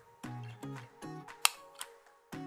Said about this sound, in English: press the shutter button to take a